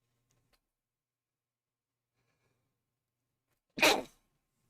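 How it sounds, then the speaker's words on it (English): A single sharp human sneeze bursts out close and loud after a long stretch of near silence, then quickly fades. "I have to sneeze."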